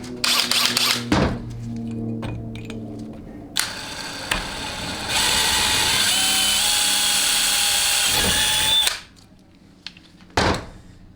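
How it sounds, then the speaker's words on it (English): A power drill whines steadily for several seconds as it bores a 1/8-inch hole through metal in a 4L80E transmission part, with a few clunks before and after and a brief burst at the end. "you're just simply going to drill right through"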